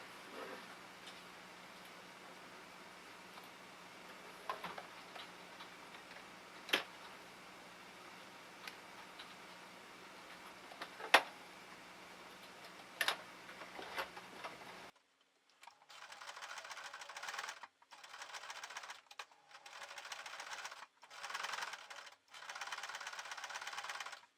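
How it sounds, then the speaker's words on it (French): A sewing machine stitching along a line on a fabric tissue case, first as a faint steady hum with occasional clicks, then as louder bursts of fast rhythmic stitching broken by short pauses, with no talking. "on coud le long de la ligne, sans oublier les allers-retours"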